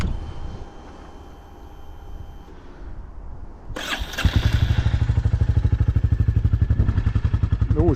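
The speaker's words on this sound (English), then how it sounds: "350 Royal Enfields burbling away there." Royal Enfield Bullet 350 motorcycle engine starting after a quiet lull, firing up sharply near four seconds and then settling into a steady, fast, thumping idle that burbles loudly and close by, with no talk over it.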